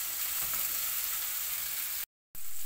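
Tomatoes and alugbati leaves sizzle steadily in a pan, a close, even frying hiss that cuts out briefly near the end and then returns.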